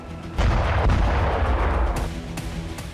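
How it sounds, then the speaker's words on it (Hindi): A heavy blast rumbles from a Ukrainian drone strike on a Russian anti-aircraft missile regiment headquarters, a loud, sustained booming roar with crackling bursts over three seconds. "यूक्रेन ने रूस के एंटी एयरक्राफ्ट मिसाइल रेजिमेंट के हेडक्वार्टर पर ड्रोन विस्फोट किया।"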